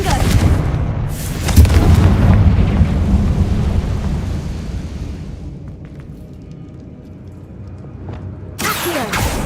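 A Confringo blasting spell from the Hogwarts Legacy game erupts in a heavy, close explosion whose booming rumble swells and slowly fades over several seconds, before another sharp burst hits near the end; a voice is faintly present.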